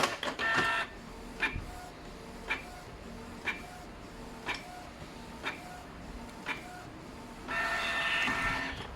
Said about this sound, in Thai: หลังจากเทสหัวพิมพ์ออกมาแล้วนะครับผม